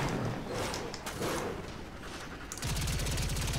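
Gunfire from the player's weapon in the video game Warframe, a dense crackle of rapid shots followed by a loud, steady stream of fast automatic fire near the end.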